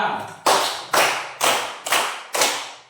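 Schoolchildren in a classroom clap together in a rhythmic counting pattern, five sharp group claps evenly spaced about half a second apart, each with a quick decay, close and loud with no talking.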